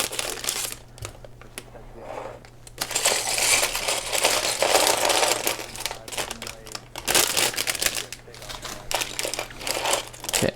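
A plastic bag of Lego Concorde pieces is torn open, crinkling and rustling loudly up close in bursts over several seconds, with a low steady hum beneath and brief speech at moments.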